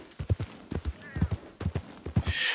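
Horse hooves clip-clopping in the Red Dead Redemption video game, a steady close rhythm of hoofbeats in quick pairs over a few seconds, ending in a hiss of noise.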